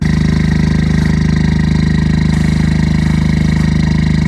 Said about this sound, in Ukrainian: попукування вихлопу